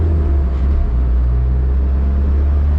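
A car engine runs in gear on a dyno, producing a loud, steady low drone with a constant hum and no pauses or talk.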